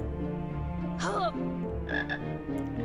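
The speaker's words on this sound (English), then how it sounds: "I need this chocolate frog here to boost my health." A chocolate frog croaks in the Harry Potter and the Sorcerer's Stone video game, a few distinct croaks popping up over steady game background sound.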